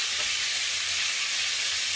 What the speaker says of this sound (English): I'm going to just stir it and brown it on that side.